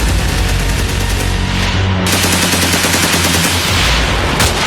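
Dramatized gunfire in the city during the 26/11 Mumbai attack: loud, dense bursts of rapid shots and booms roll on continuously, with no voices.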